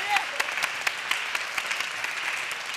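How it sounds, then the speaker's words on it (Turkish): Studio audience applause on a Turkish family game show, steady, dense clapping from a crowd with a few sharper claps standing out, continuous throughout. "Hadi abla, alkışlar."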